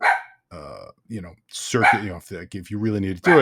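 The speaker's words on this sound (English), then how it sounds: "Sorry about the dog barking." A dog barks several times nearby while a person keeps talking over it.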